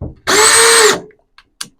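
A Bauer 20V cordless 1/2-inch drill/driver spins up at speed 1 in a single loud, close burst of steady motor whine lasting under a second, then winds down, followed by a couple of faint clicks.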